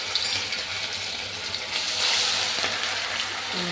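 Fish fries in hot oil with a loud, continuous, dense sizzle that holds steady from start to finish and sits close to the pan, with no speech.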